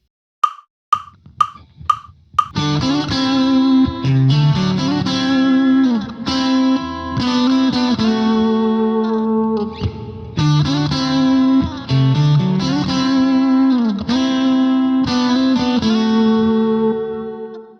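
Two layered electric guitar harmony lines from a song, after a few plucked tuning or count-in notes, ringing out together with sustained, slightly effected tone, close and loud with no talking.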